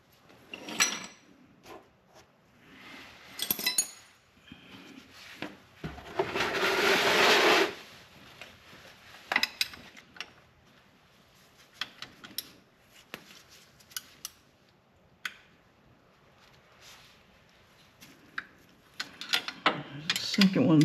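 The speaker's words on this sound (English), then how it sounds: "I'm gonna work on getting the bolts all undone, and then we'll go from there." Bolts being undone on the front differential of a Nissan Skyline, with scattered metallic clicks and scrapes of tools, a longer rough grinding burst partway through, and sparse faint taps in between.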